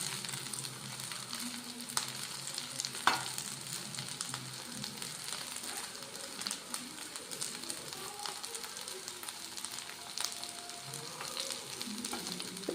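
Eggplant (brinjal) fries in hot oil with a steady, close sizzle and a soft crackle that keeps going the whole time, with an occasional faint clink and no voices.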